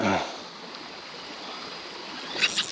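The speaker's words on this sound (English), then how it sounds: "A little cool creek comes in right there." Small cool creek flowing into a small river, a steady broadband wash of running water close by, with a brief splash or knock near the end.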